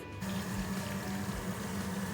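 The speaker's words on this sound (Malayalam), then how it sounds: "അതേ വെള്ളം നിറച്ചെടുത്തിട്ടുണ്ട്." Steady running water pours into a container, a constant gushing stream with no voices.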